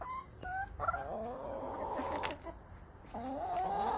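Several chickens, hens let out into a backyard garden, cluck and give rising squawky calls in short bursts close by, with a steady low outdoor rumble underneath and no talking.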